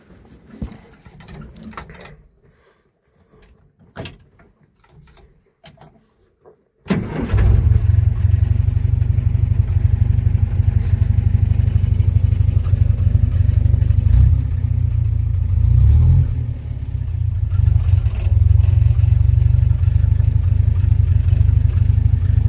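A 1947 Austin 16 car engine, unstarted for 16 years, fires up after some faint clicks and fumbling, then settles into a loud, steady running idle with a throaty low rumble close by, no voices.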